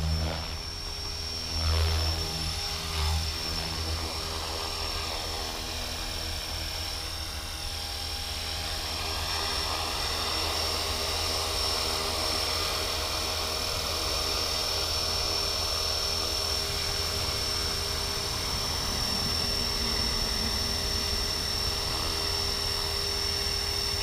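A Blade 330s RC helicopter flies steadily throughout, its rotor and motor whine a continuous, fairly loud drone with a high tonal hum, running alone for the full stretch with no voices.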